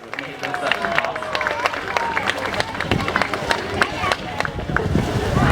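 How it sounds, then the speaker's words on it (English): An audience at a Steller sea lion talk at the Vancouver Aquarium claps in a dense, sustained round of applause. It stays fairly loud and steady throughout, with a few faint tonal calls and crowd noise mixed in. "Let's hear a big round of applause for the people and the animals who made this such a possible."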